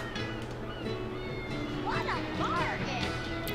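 Cats meow in the video game Tales of Berseria, two or three short rising-and-falling mews in the middle, heard over a low steady background hum.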